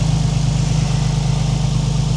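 A Nissan 350Z engine idles close by with a steady, loud low rumble and an even pulsing throb throughout, with no voices.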